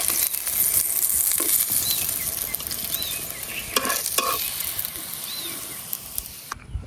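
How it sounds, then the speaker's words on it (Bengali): Young jackfruit fritters fry in a small amount of oil, producing a steady, close sizzle broken by scattered crackles and a few sharp pops and scrapes. "এই বড়াটি বাঁচতে কিন্তু তেল বেশি লাগে না, একদম অল্প তেলে দেখতে পাচ্ছি যে ভাজা হয়ে যেতেছে।"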